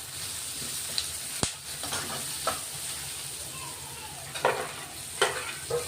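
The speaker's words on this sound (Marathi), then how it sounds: "तो आपण आता परतून घेतोय।" Finely chopped tomato sizzling in a pan with turmeric while being sautéed for pithla, a soft steady hiss broken by a few sharp clicks of stirring against the pan.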